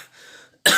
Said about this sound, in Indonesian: batuk saya belum sembuh.